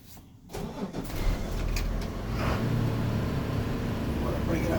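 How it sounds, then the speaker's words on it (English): A school bus's large diesel engine cranks and catches, then settles into a steady, loud rumbling idle close by. "Then you want to start the engine."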